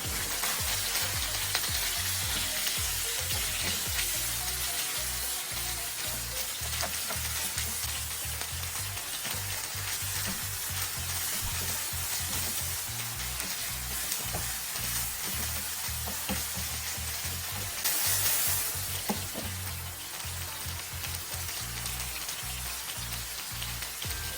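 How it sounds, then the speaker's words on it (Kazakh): Chicken breast frying in melted butter, seasoned with salt, pepper, paprika and khmeli suneli for a Georgian dish, gives a loud, steady sizzle and crackle that runs unbroken throughout with no talking. "Қызып тұрған табаға сары майды ерітіп, үстіне тауықтың төс етін салып, дәміне қарай тұз, бұрыш, паприка және де хмели сунели дәмдеуіштерін салып, қызартып қуырамыз"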